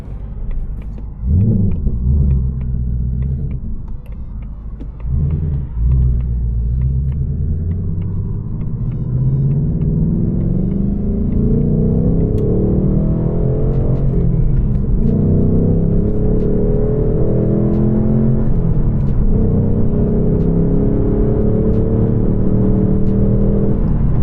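A 2024 Ford Mustang GT V8 merging onto a road, its deep engine rumble rising through the gears with repeated revving climbs, loud and close from inside the car.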